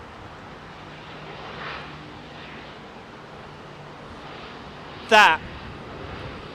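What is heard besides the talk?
Boeing 787 taking off at Heathrow Airport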